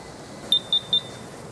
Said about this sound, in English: When we have reached our preset tire inflation pressure, it will beep and flash end.